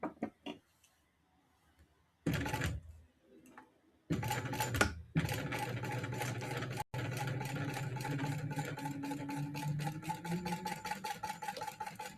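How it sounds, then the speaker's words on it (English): A sewing machine stitches the seam allowance on a bag panel, running in steady bursts with a brief stop, its rapid rhythmic needle clatter close and fairly loud. "And then sew that same seam allowance."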